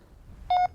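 A short electronic tone from a carp fishing bite alarm receiver plays as three quick pulses run together, bright and clear above a quiet background hiss.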